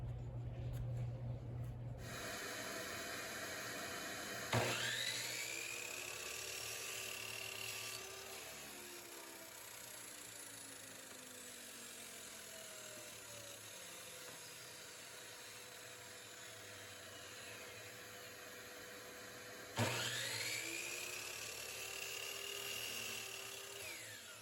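A power saw crosscuts 2x wood slats to length against a stop block: two loud cuts, each with a sharp bite into the wood, a steady whine, then a long winding-down hum, with no talking.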